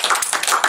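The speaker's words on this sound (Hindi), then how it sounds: "बताओ ताली।" A brief burst of audience clapping during a classroom science-and-magic demonstration: a short, dense, close patter of hands lasting under a second.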